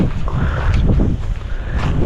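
Strong wind buffets the microphone in loud, continuous gusts, with a low rumbling roar and no clear voices.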